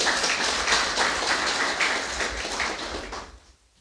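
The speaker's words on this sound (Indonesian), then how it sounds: "Tepuk tangan dulu buat Tuhan Yesus Kristus" A church congregation in Rantau Prapat claps together in a dense, steady wash of applause that carries for several seconds, then fades out near the end.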